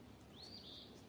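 A single Eastern Phoebe call in a greenhouse: one thin, high, slightly slurred note of about half a second, moderately clear over a steady low background hum, with no one talking.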